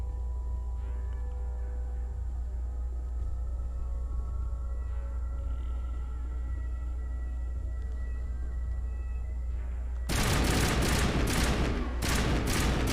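Gunfire erupts in Mass Effect Legendary Edition after a long stretch of quiet low hum, with loud, close bursts of shots arriving in sharp rapid clusters near the end.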